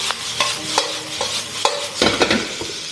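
Minced garlic, ginger, scallion and shiitake mushrooms stir-fry in a wok, with repeated scraping strokes of a spatula over a close, steady sizzle.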